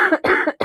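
A person coughs three times in quick succession, close and fairly loud, with short pauses between the harsh bursts.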